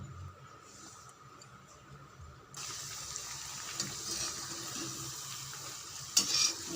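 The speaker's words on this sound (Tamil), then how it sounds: "நம்ம எண்ணெயில் பொரிச்சு எடுத்துட வேண்டியதுதான் ஃப்ரெண்ட்ஸ்." French fries deep-frying in hot oil, a soft bubbling that jumps into a loud, dense, continuous sizzle partway through, with a brief sharper crackle near the end.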